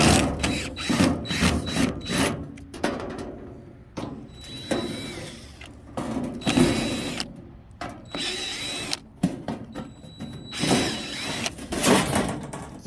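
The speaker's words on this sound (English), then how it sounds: "So we will have to take these screws off." A power screwdriver whirs in repeated short bursts while backing screws out of a panel on a Frymaster FMH417BLSC industrial electric fryer, with quiet gaps and small metallic clinks between runs.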